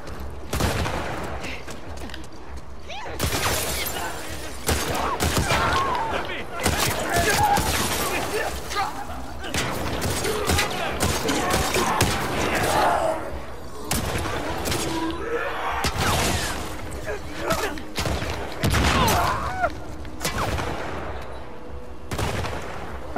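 Gunfire in The Last of Us Part II, with assault rifle shots in repeated bursts and single cracks going on throughout. The shooting is loud and close over a low background, and someone talks in Italian over it.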